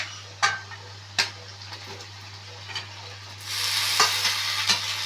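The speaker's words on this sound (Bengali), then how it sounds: "এবার চালতাটা দিয়ে দিচ্ছে কড়াইয়ে।" Elephant apple (chalta) goes into a kadai and is stirred: a few sharp utensil knocks against the pan, then a louder, broader sizzle takes over for the last couple of seconds.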